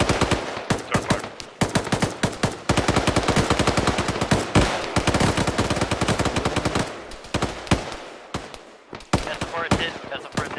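Machine gun fire from the video game Arma rips out in long, loud, rapid bursts with short gaps between them. A voice speaks over the shooting at times.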